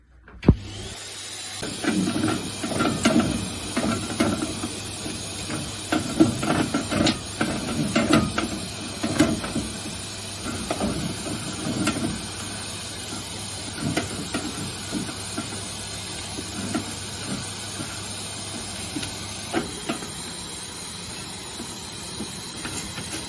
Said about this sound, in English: I'm going to have the vac on at the same time so that any fine dust that comes down goes in the vac